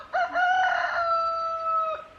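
A rooster crows once on a farm homestead, a loud, close call that rises and holds a long, steady note before breaking off near the end, alone with no talk.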